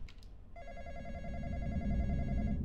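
A phone in the Roblox horror game The Intruder rings in a steady, repeating electronic trill over a low rumbling background. A faint voice is heard briefly before the ringing starts.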